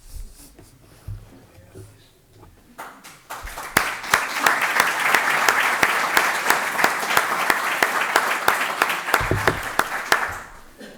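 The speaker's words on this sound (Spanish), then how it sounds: "No aplaudan antes de la intervención, por si acaso." An audience at a book presentation breaks into sustained applause. Dense clapping rises after a quiet stretch with a voice, holds steady for several seconds, then fades.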